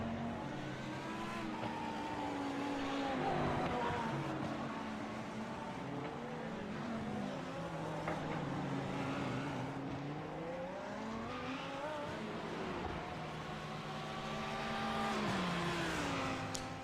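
GT1 and GT3 race cars roar around the Long Beach street circuit in a racing video game, several engines layered with rising and falling revs and gear shifts, a loud continuous drone with cars sweeping past.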